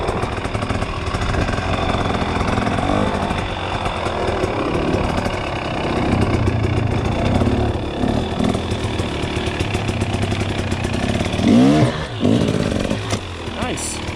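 A trials motorcycle on Dunlop EN91EX tyres rides on wet ground toward a Jersey barrier, engine chugging and revving unevenly with a sharp blip near the end, close by, with occasional speech over it.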